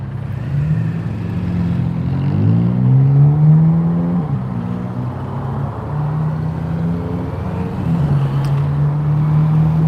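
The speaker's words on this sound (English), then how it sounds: "A 430 Ferrari right there. Making a lot of racket." A Ferrari 430 in Tokyo traffic makes a loud, close engine racket, revving up and down in several rising and falling sweeps over a steady idling drone.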